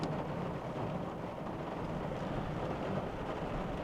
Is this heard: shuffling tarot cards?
no